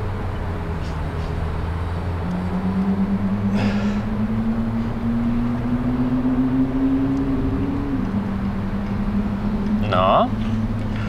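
A Ferrari 458 drives a lap on a race track, its engine a loud, continuous drone that climbs slowly in pitch, with brief voices over it.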